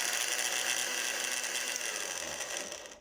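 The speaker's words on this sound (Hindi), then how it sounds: "अभी मैं इसको ग्राइंड करने लगा हूँ" A grinder whirs steadily while grinding mint leaves for mint soda, a close, dense mechanical buzz that fades and cuts off at the end.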